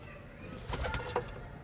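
Pigeons in a loft with young birds flap their wings in a brief flurry of soft beats and give low coos, close by, with no talk.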